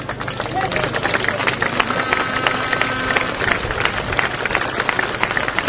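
Outdoor crowd clapping steadily in a churchyard gathering at Saint Anna's, a dense continuous patter with a murmur of voices and cheering mixed in throughout.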